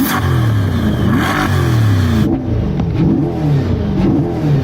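A Corvette engine revs hard from inside the cabin, loud rising and falling sweeps repeating several times, the strong vibration of the engine shaking the car.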